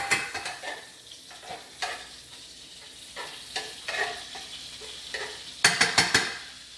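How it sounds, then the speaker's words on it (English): Butter melts and sizzles in a pan for chicken marsala. A soft, steady frying hiss runs underneath, with scattered utensil scrapes and a quick burst of metallic clinks near the end. "Get this butter all melted up."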